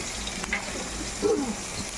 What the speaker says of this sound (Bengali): তেলটা হয়ে গেছে জিরা তেজপাতা ফোড়ন দিয়ে দিলাম